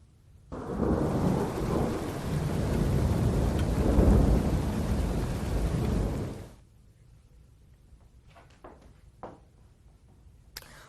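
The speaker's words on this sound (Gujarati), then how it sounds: "લાઠીદળ ગામે ધીમે ધીમે વરસાદ શરૂ થયો છે" A loud wash of heavy rain and storm noise in Lathidal village, Botad, Gujarat, lasts about six seconds, then drops away to quiet with a few faint clicks and knocks.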